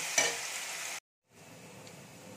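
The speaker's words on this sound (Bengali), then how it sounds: "গুঁড়ো মিশিয়ে মশলাটা তেলের উপর দিয়ে দেবো। মশলাটা খুব ভালো করে কষিয়ে নেব।" Masala of turmeric and cumin paste frying in oil while stirred, a close hissing sizzle that cuts out briefly and returns softer, with a faint scrape near the start.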